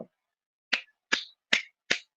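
Single person giving small, slow hand claps: four crisp isolated claps spaced evenly about 0.4 seconds apart, close and fairly quiet, with silence between them.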